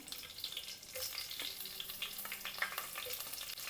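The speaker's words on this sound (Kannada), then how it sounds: "ಇವಾಗ ನಾನು ಕರ್ಬೆ ಸೊಪ್ಪನ್ನು ಹಾಕ್ಕೊತಾ ಇದ್ದೀನಿ ಇದ್ರ ಜೊತೆ ಒಂದು ಮೂರು ಮೆಣಸಿನ್ಕಾಯನ್ನು ಹಾಕ್ಕೊತಾ ಇದ್ದೀನಿ" Curry leaves and green chillies dropped into hot oil in a pan, a steady bright crackling sizzle with spitting pops throughout, close and unbroken.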